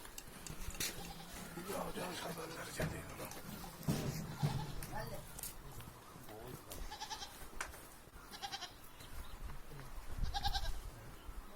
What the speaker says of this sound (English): You can hear the sound of bleating goats, bleating sound.